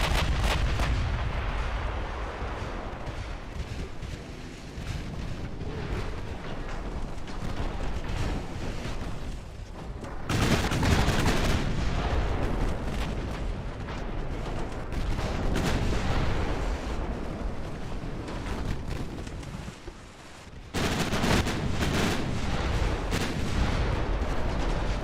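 Naval gunfire of HE and AP shells in the video game Ultimate Admiral Dreadnoughts, heavy booming artillery salvos and rumbling impacts in a continuous dense barrage, loud throughout with a couple of brief lulls.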